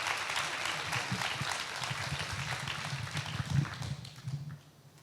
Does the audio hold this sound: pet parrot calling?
no